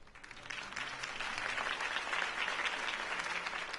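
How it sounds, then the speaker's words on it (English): Crowd applause at a political campaign speech in a Batman video game, a steady wash of clapping that swells after a brief softer start and holds loud and dense throughout. "If only Mr. Wayne, my campaign's largest backer, could have heard that applause"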